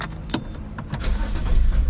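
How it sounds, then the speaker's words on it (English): Keys jangle briefly in several quick metallic clinks beside a BMW E90 with its trunk open, followed by a low rumble building toward the end. "let me get my keys"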